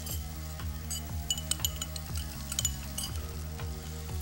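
Zucchini, yellow pepper, red onion and mushrooms sautéing in a pan, with a steady low sizzle under repeated stirring and light clinks of a utensil against the pan, close and fairly quiet.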